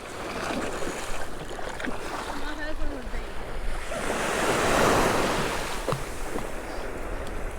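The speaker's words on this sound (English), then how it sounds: "Fortunately, we don't have too big of shore breaks today" Moderate ocean shore break rolling onto a beach during surf fishing for jack crevalle, a steady wash of surf with wind buffeting the microphone and one swelling wave mid-way.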